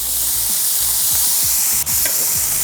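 Steak sears on an oiled griddle with a loud, steady close sizzle and crackle, plus a few scraping and clattering touches, no voices.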